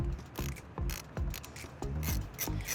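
A tool loosens a hose clamp on a car engine, giving a close, quiet, repetitive ratcheting rhythm of about half a dozen short grinding clicks, heard alone.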